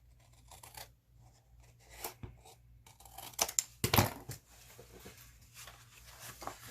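Scissors snip a V shape into a folded paper file folder, with a few quiet crisp cuts and rustles of paper clustered near the middle, close and soft.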